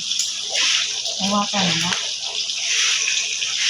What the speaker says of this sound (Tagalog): mag-iipon ako ng tubig.